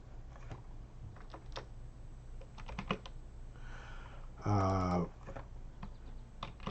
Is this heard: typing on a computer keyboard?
yes